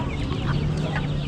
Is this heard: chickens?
yes